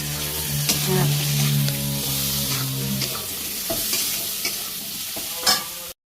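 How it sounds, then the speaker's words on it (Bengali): Spice masala is stirred and sautéed in a pan, a continuous sizzle with scraping strokes of the spoon against the metal. A low steady hum sits beneath it early on, and one sharp clatter comes near the end. "আর এখানে মশলা কষাচ্ছি আমি"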